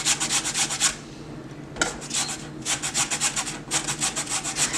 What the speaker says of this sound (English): it makes it really easy to get the zest off of fruits